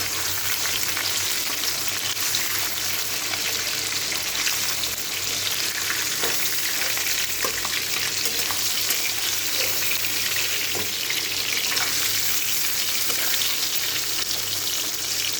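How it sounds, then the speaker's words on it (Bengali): Fish frying lightly in oil in a pan, giving a long steady sizzle and crackle heard close up, with a few faint clinks and stirring sounds and no talking. "হালকা করে ভাজবো, বেশি ভাজবো না মাছটা।"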